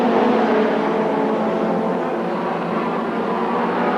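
Ford Sierra Cosworth touring race car lapping a Cavalier at Silverstone among other touring cars, a loud sustained engine roar holding steady throughout with no break.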